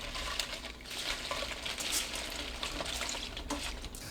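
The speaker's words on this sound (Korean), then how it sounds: "팬이 달궈져서 지글지글 소리 나면 중불로 바꾸고" Green onions sizzle and crackle in a hot pan, a steady fizzing with occasional stirring scrapes.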